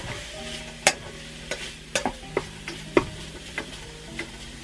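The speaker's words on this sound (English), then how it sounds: "So I'm just going to stir the beef in with the mushrooms." Beef and mushrooms stirred together in a pan, with a spatula knocking and scraping in scattered sharp clicks over a steady low sizzle; no voices.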